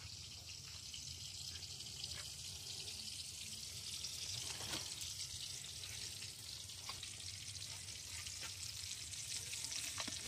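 Food frying in a pan in a home kitchen, a continuous faint crackling sizzle with light scattered clicks and no talk.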